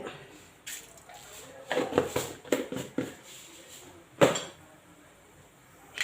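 Mustard seeds spluttering in hot coconut oil in a cooking pan, a series of irregular sharp pops and crackles over a low sizzle, close, with no talk.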